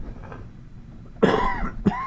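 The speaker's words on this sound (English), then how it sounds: "I think I may have to cough, so I'm going to try to cover this microphone up" A person coughs twice behind a hand covering the microphone, the first cough longer and the second short, both muffled but loud against a quiet room.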